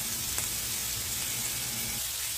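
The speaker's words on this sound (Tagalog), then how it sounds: "magpainit muna tayo ng mantika at saka ilagay natin yung sibuyas, luya at saka bawang" Onion, ginger and garlic sauté in hot oil for chicken tinola, a brief, even, close-up sizzle that holds steady throughout.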